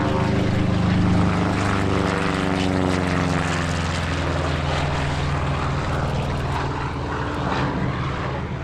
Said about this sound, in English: Vasquez displayed another newly restored Warbird housed with the Dakota Territory Air Museum, P-47D Thunderbolt Bonnie